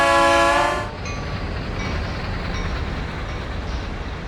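An HSC train rolls along the rails. A loud horn blast sounds briefly at the start, then a steady rumbling roar of running carriages carries on, with no talk.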